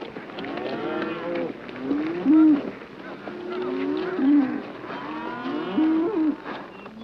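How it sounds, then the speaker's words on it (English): Cattle low repeatedly in a film scene as a herd is driven across grazing land, with three loud, drawn-out moos rising at steady intervals over a busy background of overlapping animal calls. "Robards drives his cattle across James Caan's grazing land"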